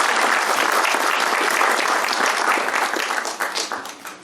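Audience applause at a formal evening ceremony honoring a distinguished journalist, dense and steady clapping from a large crowd that holds strong before tapering off toward the end.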